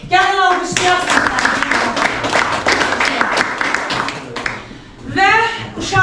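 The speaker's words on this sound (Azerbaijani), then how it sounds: "Gəlin alqışlayasınız" A class of ninth-grade pupils breaks into applause during a literature lesson, a dense run of clapping lasting several seconds between stretches of a teacher speaking.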